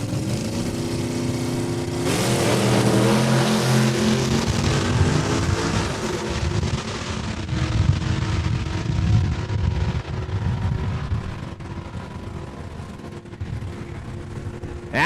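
Drag racing cars at Saskatchewan International Raceway in Saskatoon, loud engines roaring and revving down the strip, a heavy sustained rumble that shifts pitch as the cars pull away and fades slightly toward the end.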